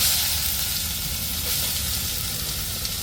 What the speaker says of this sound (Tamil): இப்போ நம்ம பீட்ரோட்டை நல்லா திருவி சொர சொரப்போட நெய்யில் போட்டு நல்லா வறுப்போம்